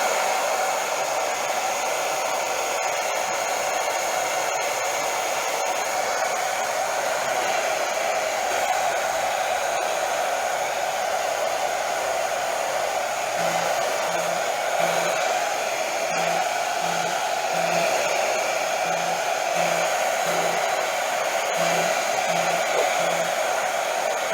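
A hair dryer runs continuously on low speed, warming and drying an Arrma Infraction RC car body shell, a loud, steady close-up blowing hum with a faint rhythmic ticking joining in partway through.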